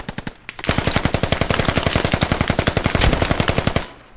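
Sustained rapid automatic gunfire from the Squad video game, a loud, close, evenly spaced burst of shots running for several seconds before cutting off, with no talking.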